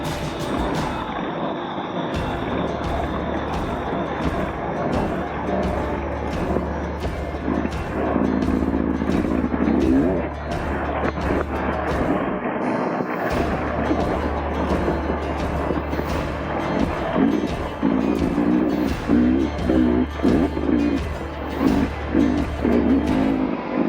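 A 2023 Beta 300rr dirt bike running with its long exhaust fitted, a loud buzzing two-stroke engine that holds steady and then surges and drops several times as the throttle changes, close and alone without talk.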